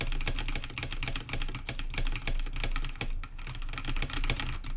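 Rapid clatter of computer keyboard keys pressed during gaming, with repeated spacebar jumps, captured very close by a condenser streaming microphone; crisp irregular clicks in quick succession.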